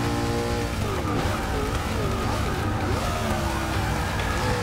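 A NASCAR race car in Forza Motorsport 6 slides with tires squealing while its engine drones loudly, pitch rising and falling through the slide, with a continuous, close, rumbling roar throughout.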